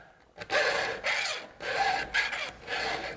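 A round file worked across a chainsaw chain in a laser-guided chainsaw sharpener, about five loud, close, raspy push strokes with short pauses between them, no talking.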